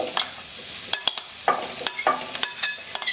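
Chopped banana flower stirred into a hot pan for a thoran, with sharp, close spatula scrapes and clatters in uneven bursts over a light sizzle.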